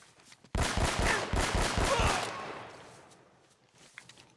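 Rapid burst of gunfire from the video game Uncharted: Drake's Fortune, a close, loud string of about seven quick shots followed by a long fading echo tail, with no talking over it.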